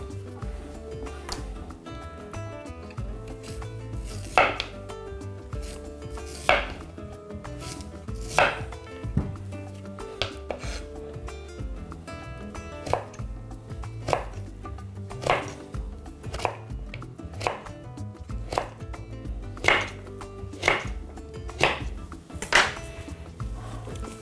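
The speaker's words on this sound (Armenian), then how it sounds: "կտրատում ենք ձողիկների։" A knife chops a large sweet potato into sticks on a board, repeated sharp close knocks at an uneven but steady pace, spaced about a second apart, with no talk.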